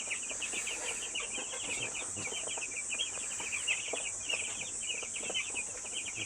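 Young chickens about eight days old peep and cluck constantly in a busy overlapping chorus, close by, over a steady background hiss.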